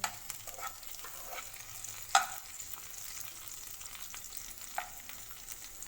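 Curry leaves and taro root fry in hot oil, giving a faint, steady crackling sizzle close by, broken by a few sharper pops and the occasional scrape of stirring.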